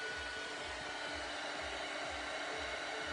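A heat tool blows steadily across watercolour card to dry it, a constant close whooshing roar with a low fluttering pulse and no talk.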